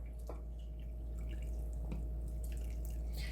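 Warm water pours and trickles into a bowl of corn and chickpea tortilla dough, a soft, quiet splashing with a few faint drips.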